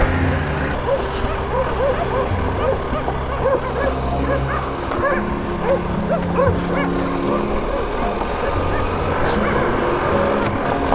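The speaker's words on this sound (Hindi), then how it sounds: "अबे कुत्ते पीछे लगे हुए यार।" Dogs bark and yip while chasing a motorbike on a road, several barks in scattered bursts over a steady engine and road drone, with faint voices at times.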